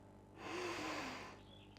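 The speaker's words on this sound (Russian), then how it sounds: "Так вот дышим через нос." Air drawn in through the nose through an aromatic oil inhaler with a nasal-clearing attachment, one steady breathy inhalation swelling and fading over about a second, close and fairly quiet.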